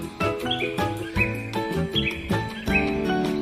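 A bird chirps in a children's story, bright quick tweets repeating over a soft musical backing, close and moderately loud with no talk.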